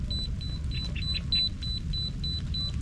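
A fishing bite alarm at a pond beeps in a steady repeating series of short, clear high tones over a continuous low rumble of outdoor background noise.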